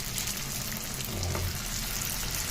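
Lumpiang shanghai frying in hot oil, giving a dense, continuous sizzle that holds steady and close for the whole stretch with no talk over it.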